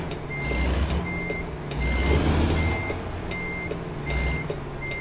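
A truck backing up in American Truck Simulator, its reversing alarm beeping in a steady evenly spaced series over a loud idling diesel engine, with bursts of air hiss rising and falling and no talking.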